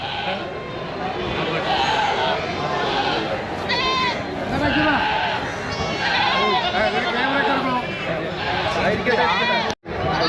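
Goats and goat kids at a busy livestock market in Vanniyamkulam, Kerala bleat repeatedly and overlap, close and loud, over constant chatter from people around.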